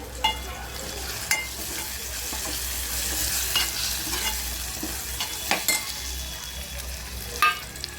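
Deseeded chopped tomatoes frying with masala in a pan for an egg curry, a continuous crackling sizzle with repeated spatula stirs and scrapes over eight seconds.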